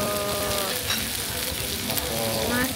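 A hamburg steak sizzles loudly on a hot iron restaurant plate, a continuous close-up crackling hiss with popping fat and faint background voices.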